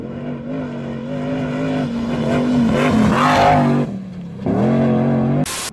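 A GMC prerunner truck engine drives and revs hard, with a loud, steady mid-pitched roar that swells and shifts, briefly drops off, then surges again, all close and with no talk.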